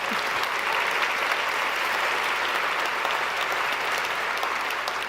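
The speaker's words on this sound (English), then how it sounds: "now we can applaud" A large audience at a gala dinner applauds steadily, a dense wash of clapping that holds at an even level throughout with no voices standing out.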